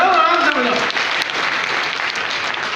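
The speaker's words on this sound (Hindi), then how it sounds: "तालियां जोर से बजाओ, आराम से बजाओ" Loud crowd applause at a Lions Club regional convention in Nagaur, steady clapping filling the hall with some talk at the start.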